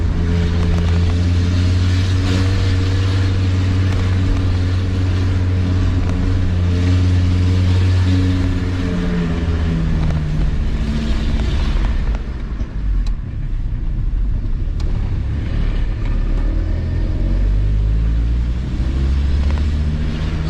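A faulty car engine drones loudly and steadily while climbing a hill, its low pitch dropping and shifting as it labors under load, close and continuous throughout.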